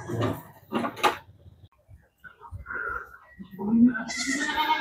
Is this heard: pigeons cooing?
no